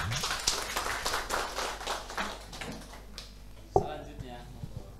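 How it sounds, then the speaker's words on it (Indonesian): A brief patter of hand claps from a small group, fading within a few seconds, followed by a sharp knock and a quiet room. "Tepuk tangan."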